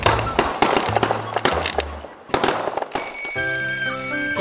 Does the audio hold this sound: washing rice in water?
no